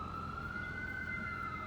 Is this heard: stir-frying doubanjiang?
no